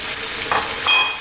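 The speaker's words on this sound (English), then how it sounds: "Then we're going to add our tomatoes." Canned plum tomatoes going into a hot pan, a steady close sizzle and frying hiss with a brief stirring scrape partway through.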